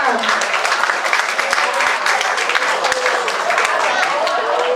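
Audience applause welcoming a guest at a World No Tobacco Day event at Phra Nang Klao Hospital, a dense steady wash of many hands clapping throughout, fairly loud, with faint voices mixed in.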